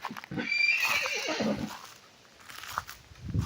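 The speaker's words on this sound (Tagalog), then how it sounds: "May mga kabayo dito." A horse on a roadside farm lot in Famy, Laguna neighs loudly in a long whinny lasting nearly two seconds, followed by quieter snorts and a few hoof clops nearby.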